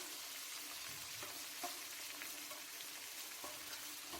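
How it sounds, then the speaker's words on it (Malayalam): Chopped vegetables sauté in a pan as a soft, fairly faint and even sizzle, with a few light clicks of stirring scattered through. "അതിനുശേഷം നമുക്ക് അരിഞ്ഞ് വെച്ചേക്കുന്ന ഈ സാധനങ്ങൾ ഇട്ട് വഴറ്റിയെടുക്കാം"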